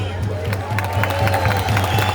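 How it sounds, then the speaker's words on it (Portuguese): Outdoor political rally crowd in Belo Horizonte cheers and claps together as a broad, roaring wash of noise over a steady low hum from the sound system. "Queria uma salva de palmas para o deputado federal Evair de Mello, do Espírito Santo."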